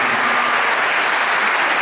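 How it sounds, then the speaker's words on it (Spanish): An audience applauds steadily at a guitar festival concert, the Fiesta Nacional de la Guitarra, with dense, even clapping that fills the whole stretch, loud and close with no voices over it. "fuerte el aplauso para él"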